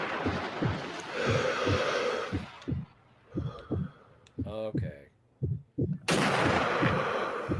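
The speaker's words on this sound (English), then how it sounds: "He's shooting." Enemy gunfire in the game Sniper Elite V2 sounds as a rapid, rhythmic series of thumping shots early on, then scattered bursts with pauses, while a voice talks in between.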